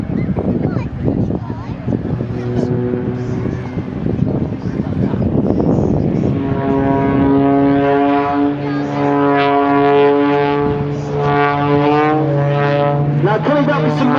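An aerobatic aircraft at an air show drones past overhead, its engine rising into a sustained whining, pitch-shifting roar that swells and bends as it passes, with a commentator talking over the public address.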